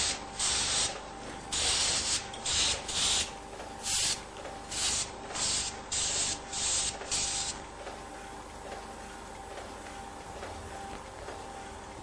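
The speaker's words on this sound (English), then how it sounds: "The use of compressed air is one way of achieving this." Compressed air blows a press filter dry, coming as loud rough hissing bursts in quick uneven pulses. They give way to a softer continuous hiss near the end.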